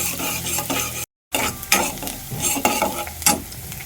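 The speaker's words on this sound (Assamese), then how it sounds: "পিঁয়াজটো প্ৰথমে ভাজি ল'ম ধুনীয়াকৈ।" Chopped onion frying in a few spoons of oil in a pan, with a close sizzle broken by scraping, stirring strokes and one short silent gap.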